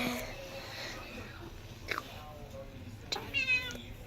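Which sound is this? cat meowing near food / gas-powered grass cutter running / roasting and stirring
cat meowing near food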